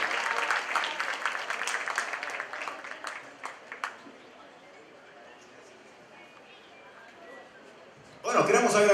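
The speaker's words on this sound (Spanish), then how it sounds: "¡Fuerte el aplauso!" An audience claps loudly at the start, and the applause thins into scattered claps that fade into a quiet room by about four seconds, before a sudden loud burst of sound at the very end.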